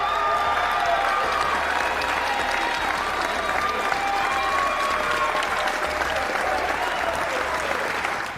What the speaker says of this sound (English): But as the crowd erupted